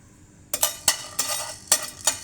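White and black peppercorns, two cardamom pods and two cinnamon sticks dry-fried in a pan, heard as several sharp, close scraping clatters at irregular intervals, with no steady sizzle.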